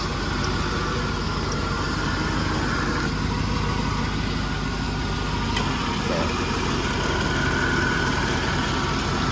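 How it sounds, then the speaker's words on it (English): OBS Chevy truck with an LS engine swap idling with exhaust leaks, a steady, close, low-pitched running drone with a rough, hissy edge and no change in speed. "Here she is running. You probably hear the exhaust leaks."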